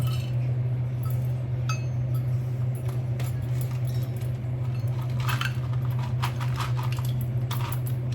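Dried green raisins dropped by hand into a glass jar while fruit is soaked for a Christmas plum cake, giving scattered light clinks over a steady low hum.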